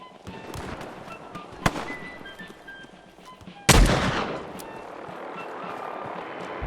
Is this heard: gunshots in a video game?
yes